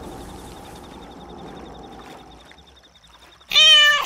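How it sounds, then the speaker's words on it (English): A cat in the marshes of the video game Days Gone lets out one loud, close meow at the end, following several seconds of quiet ambient game sound. "there's a cat in the marshes"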